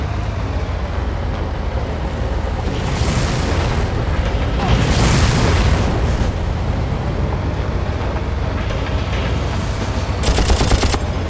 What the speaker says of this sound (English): Somebody's shooting at us.